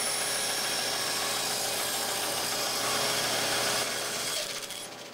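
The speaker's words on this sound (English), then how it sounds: "Here at the bandsaw, I'm going to rough out each hold down, staying outside the line" A bandsaw cuts a wooden hold-down for a tablesaw jig, giving a steady, loud, continuous whine and rasp that holds even for several seconds before easing off at the end.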